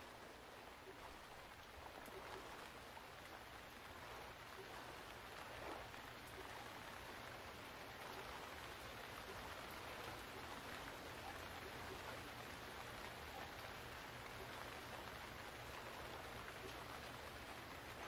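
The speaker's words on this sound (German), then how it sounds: "Natürlich regnet's." Steady, soft rain falls throughout in the video game Stranded Deep, an even hiss of drops with no other sounds standing out.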